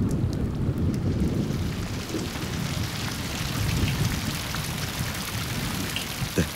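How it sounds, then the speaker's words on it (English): Heavy summer storm rain pours steadily over a woodland stream, a dense continuous hiss with low thunder rumbling underneath and occasional louder drops close by. "The heavy downpours bring an influx of fresh water, and the small brook is transformed."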